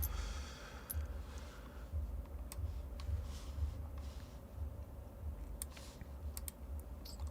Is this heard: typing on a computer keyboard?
yes